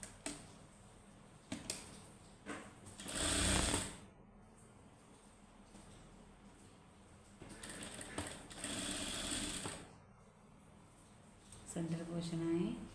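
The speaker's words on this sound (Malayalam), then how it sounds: "ഇനി ഞാൻ സ്റ്റിച്ചിങ് ചെയ്യാം." A sewing machine stitches fully beaded fabric in three separate runs of rapid mechanical chatter, with quiet pauses and handling between them and a faint voice in the background.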